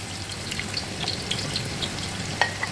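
Ginger, garlic and onion fry in ghee and oil for mutton rice, a steady close sizzle with occasional crackles and pops throughout, no voices.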